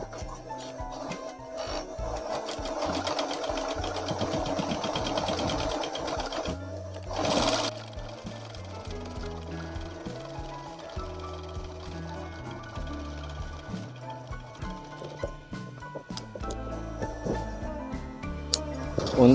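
A sewing machine stitches a mini jacket collar with yellow thread in steady, rapid mechanical runs that are close and clear, broken by one brief pause and a scraping handling noise.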